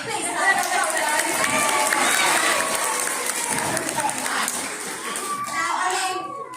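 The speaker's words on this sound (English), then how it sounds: "Please clap it up," Audience at a parrot show at Longleat applauds and cheers loudly and steadily, dense clapping mixed with children's voices and crowd chatter, the ovation easing only slightly toward the end.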